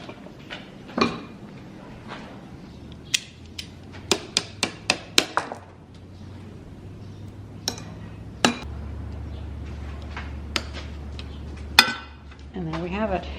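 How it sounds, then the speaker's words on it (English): Sharp metallic hammer strikes on a chain fitted onto a motorcycle sprocket, a rapid run of about six blows in the middle and scattered single hits elsewhere, close by with faint talk between. "It really conforms to the sprocket well when you hammer it."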